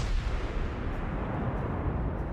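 Heavy booming rumble of battleship guns firing shells in the World of Warships game, a dense low roar sustained through the short stretch without distinct separate shots.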